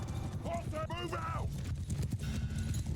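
Horse hooves clip-clop amid the busy din of a Mount & Blade II: Bannerlord battle with horse archers and cavalry, steady and mid-distance, partly under someone talking.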